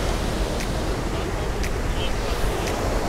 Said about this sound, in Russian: можно посорфить на искусственной волне